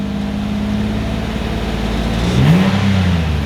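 A GM 3.9 V6 engine in a Malibu, Impala or similar car holds a steady idle, then revs briefly just past 1,000 RPM with a modest rise in pitch before settling, heard up close with no talking.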